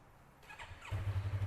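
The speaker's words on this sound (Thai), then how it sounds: "เดี๋ยวมาฟังเสียงเครื่องกันนะครับว่า ตอนนี้อัตราเร่งเสียงเครื่องเป็นยังไงนะครับ" A 2017 Yamaha R3 motorcycle engine catches and settles into a low, throbbing idle partway through, close and steady after a quiet start.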